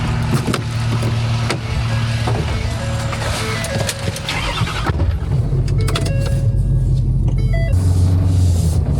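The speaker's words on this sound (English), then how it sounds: "I am gonna take this truck. She's already warmed up" A warmed-up truck engine idles steadily and loudly up close, a constant low rumble with a faint whine layered on top, heard alone with no talk.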